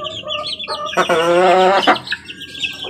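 A hen clucks close by in a clear, rising burst of calls, with softer clucks and small chirps before and after it, and no talk over it.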